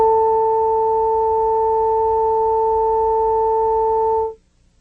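A steady electronic tone made from a sine wave combined with an overtone, holding evenly for about four seconds before stopping abruptly, clean and alone.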